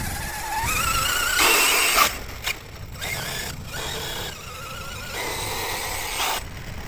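A Traxxas XMaxx RC car with damaged gears drives on sand dunes, its motor whining and rising in pitch in bursts, broken by short pauses and grinding, fairly close.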